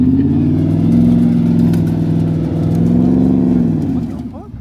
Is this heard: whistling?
no